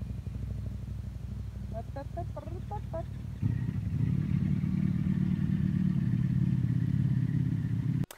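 A motorcycle engine rumbles steadily nearby, growing louder as it revs up partway through, with a few short clucking calls early on.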